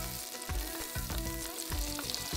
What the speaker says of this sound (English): melt the butter and add the garlic and onions